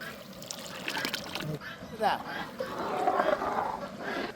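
Tamarind water for Udupi rasam is poured out in a short, splashy trickle that rises and falls over a few seconds, close to the microphone.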